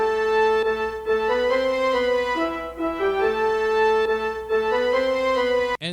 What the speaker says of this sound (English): I like to use number 21 brass ensemble and number 19 French horn